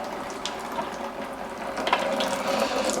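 Coolant drains from the radiator of a Jeep Grand Cherokee WJ with a 4.7L engine, a steady close trickle and splash with faint metallic clicks and no talk.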